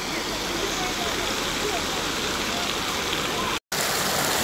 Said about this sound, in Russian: Короче, я иду под водопадом.